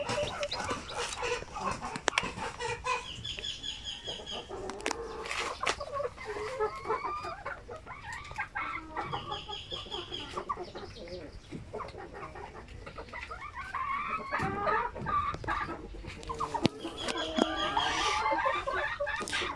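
Native Zampen chickens cluck and call over a busy farmyard, with overlapping bursts of clucking throughout and occasional sharper squawks.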